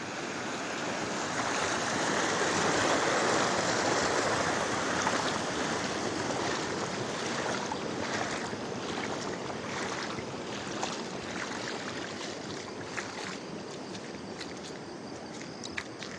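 Floodwater from a village flood in heavy rain rushes and surges in a steady, loud broadband roar that swells early and then holds evenly for the whole stretch, with no talking over it.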